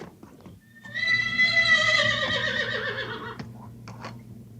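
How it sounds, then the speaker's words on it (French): A black horse in a French horror film lets out a loud, drawn-out whinny lasting about two seconds, its pitch wavering as it trails off, followed by a couple of brief sharp knocks over a low steady hum. "Le cheval noir pousse aussi parfois un peu trop de cris"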